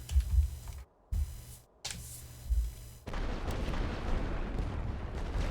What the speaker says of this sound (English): Commencez le barrage.